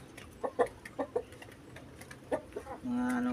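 Rhode Island Red heritage chickens in a flock of about fifty clucking: several short, close clucks in a loose rhythm, followed by a longer sustained call at the end, while a voice speaks quietly in the background.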